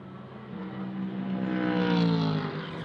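A Porsche 718 Cayman GT4 Clubsport race car engine drones during a GT sprint cup race at Magny-Cours, its steady note rising and swelling louder as the car draws nearer, then easing slightly.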